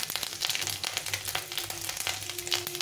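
Panch phoron spices crackle and sizzle in hot oil, a close, quiet frying hiss broken by sharp pops.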